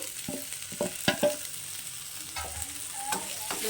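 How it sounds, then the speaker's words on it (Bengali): Okra goes into a pan of lightly fried onions, crackling and sizzling close by. Several sharp stirring scrapes and clacks break up the steady frying hiss, with no talking. "পেঁয়াজটা হালকা ভাজা হয়ে গেছে এখন আমি এর মধ্যে ভেন্ডিগুলোকে দিয়ে দিচ্ছি"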